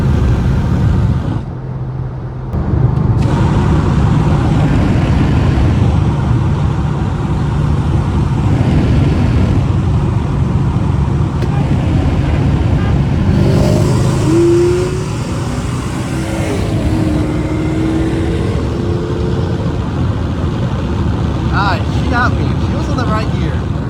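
A Mercedes W211 E55 AMG V8 driving, with a continuous deep engine and exhaust drone that rises and falls as it accelerates, heard from inside the car with some voices talking over it.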